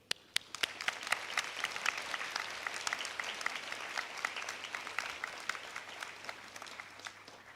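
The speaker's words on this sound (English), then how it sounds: "join me in a round of applause for all those who've supported our graduates" Audience at an SMU commencement ceremony breaks into sustained applause, a dense crackle of many clapping hands that starts with a few sharp claps and carries on evenly throughout, moderately distant.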